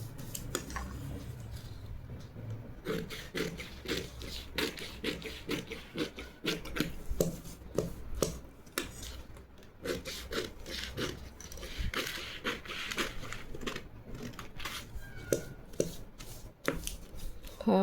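Scissors cutting cotton blouse fabric for a size-32 katori blouse pattern, with repeated close crisp snips and rustling cloth in a steady rhythm, no talk.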